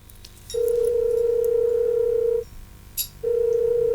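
Loud steady telephone ringback tone on an outgoing call: a long two-second burst, a short pause, then another burst beginning, over a faint low background hum.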